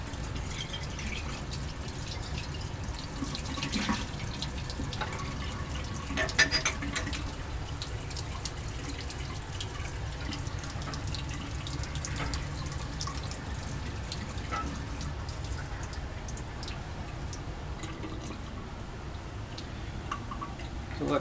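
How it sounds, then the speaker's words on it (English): Tap water runs steadily over a glass stopcock being rinsed in a chemistry lab, a continuous even hiss of flowing water with faint drips, moderately quiet and unbroken for the whole stretch. "It's usually enough to just rinse the stopcock under some water and let it dry."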